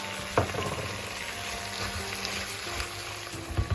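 Onions sizzle in a pan with browned veal, making a continuous close frying hiss with a couple of sharp utensil clinks at the start and end, and no voices.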